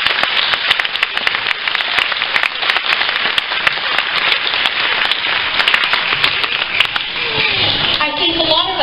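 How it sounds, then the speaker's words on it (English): Crowd of school ceremony attendees, including children, clapping in sustained, dense applause that fades out near the end as voices emerge. "Let's give them another round of applause."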